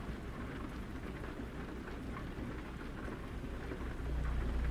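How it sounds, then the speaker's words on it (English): Heavy rain pours steadily in American Truck Simulator, a dense, constant wash of sound with low thunder rumbling underneath that swells louder near the end. "It's raining pretty good"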